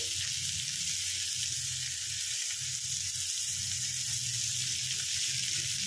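Chopped onion fries in a pan over a high flame, giving off a loud, continuous sizzle with faint stirring underneath.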